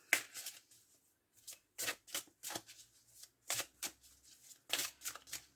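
Oracle cards from a Jane Austen deck being shuffled by hand, soft papery riffles and slides in irregular bursts with short pauses between, close and quiet with no talking.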